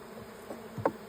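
Honeybees buzz around a hive comb being removed on a chilly day, giving a faint, brief hum with a couple of louder close passes.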